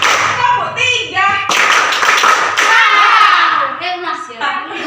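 A training-session group claps in short rhythmic bursts of three, loud and close, with children's and adults' voices chanting and talking between the claps.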